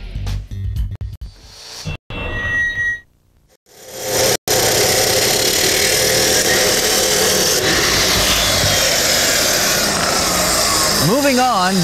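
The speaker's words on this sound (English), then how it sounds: "Now I'll go ahead and cut this pipe off and see what we can do here." A Dake cold saw cuts through pipe: a few knocks and short bursts, then a loud, continuous grinding roar that holds steady to the end.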